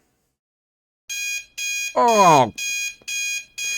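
A digital alarm clock rings in the Snoot Game mod, a run of loud, evenly spaced electronic beep bursts with one person's startled exclamation cutting in partway through.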